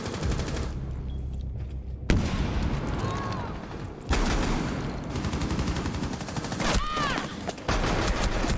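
Rapid gunfire rings out in the Rainbow Six Siege video game, with bursts of automatic shots separated by sharp cuts and a few brief gaps, loud and close throughout, with faint ringing tones over it.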